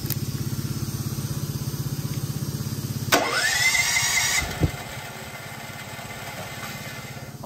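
A Westinghouse WGen11500TFc generator running on propane cranks with a steady rhythmic pulse, catches with a loud rising roar, then settles into a steady idle, close and alone.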